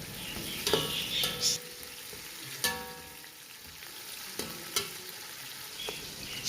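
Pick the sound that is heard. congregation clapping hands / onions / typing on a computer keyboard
onions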